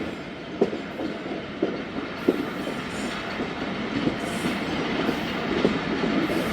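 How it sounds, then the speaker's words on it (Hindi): A coal train rolls along the railway with a steady rumble and faint rhythmic clicks of wheels over rail joints, a continuous moderately loud passage without voices. "सामने एक अदद कोल ट्रेन मौजूद है।"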